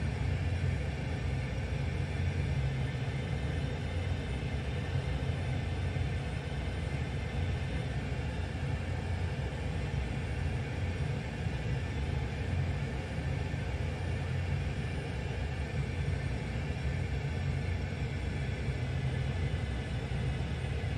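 Steady, loud engine drone of a Pilatus PC6 aircraft with the throttle pulled back, heard continuously from inside the plane near Dunkeswell Aerodrome.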